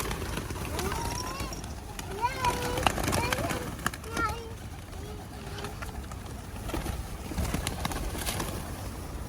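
Pigeons coo softly now and then on a town square, under close talking and general outdoor bustle.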